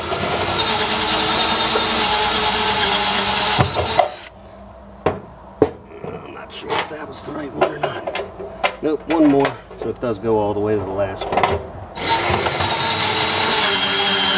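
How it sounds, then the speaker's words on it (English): A power drill drilling holes in metal while installing a motorcycle wheel chock whines in short bursts, stopping and starting, with someone speaking in between the bursts. "Not putting a whole lot of pressure on the drill."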